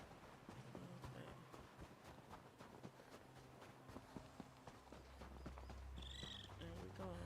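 Horse hooves clip-clop at a steady running pace in an Elder Scrolls video game, under constant game ambience and music.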